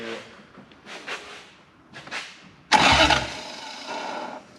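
A Toyota 1UZ V8 in a Hilux with a T88 turbo cranks with a few short starter bursts, then catches and fires into a loud, rough idle that holds steady, heard up close.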